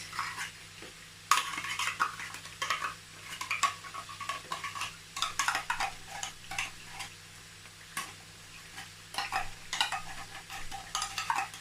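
Ingredients for a Nigerian jollof rice sauce being mixed, with tomato paste about to go in: a utensil scraping and clinking against a pot in irregular bursts over a low steady background hum, close and fairly quiet, with no talking.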